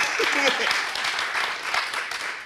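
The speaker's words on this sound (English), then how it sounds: "that's a round of applause" Audience applause at an LGBTQ+ history talk in Pioneer Square, a full patter of many hands clapping with a voice and a cheer rising briefly over it.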